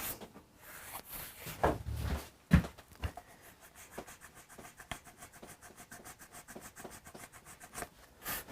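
An abrasive rubs over the nitro finish of a Gibson Les Paul guitar with quick, steady scrubbing strokes, close and faint. A couple of soft knocks come early on.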